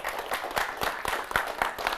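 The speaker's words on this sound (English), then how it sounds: "will you give Tim and Epic Productions a big round of applause?" A community audience gives a short round of applause, dense overlapping hand claps with distinct individual slaps, fairly close and steady.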